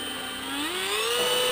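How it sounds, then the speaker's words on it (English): A Dremel rotary tool runs close by, its high whine climbing steadily in pitch as it spins up, with no talking. "this is a Dremel. It's a rotary tool with different things that can go on the front"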